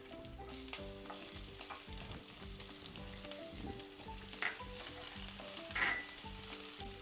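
Cumin, chana dal, peanuts and green chilies fry in a pan with a steady, close sizzle and occasional stirring scrapes, running continuously under background music.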